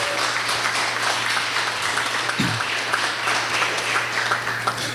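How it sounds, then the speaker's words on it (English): Audience applause at an evening event called Cookies & Candidates, a steady crowd of hands clapping that holds at even volume throughout, fairly close, with no talk over it. "We get a round of applause."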